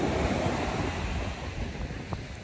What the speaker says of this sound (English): For those who are not close to the ocean, then this can be a nice opportunity for you to enjoy the ocean.